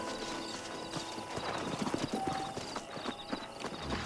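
Horse hooves clip-clop in a loose, uneven patter as riders dismount in the western video game Red Dead Redemption, with a brief snort or whinny, moderately near and without speech.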